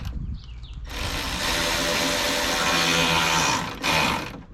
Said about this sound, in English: And then change the ratchet to tighten.